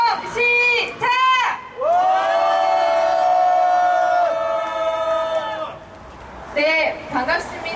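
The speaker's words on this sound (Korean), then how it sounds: "제네트 잭슨님 함성 시작!" A crowd at an evening candlelight rally for a labor union struggle shouts and cheers together, with short bursts of yelling, then one long, sustained roar, then more short shouts.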